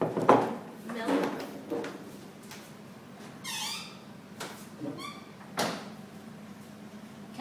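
A freezer drawer is pulled open in a home kitchen, giving several sliding, squeaky scrapes and soft knocks in a quiet room with short bursts of movement.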